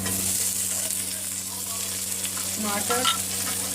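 Steady, loud sizzling of ginger-garlic paste and tomato frying in a pan, with faint stirring scrapes near the end.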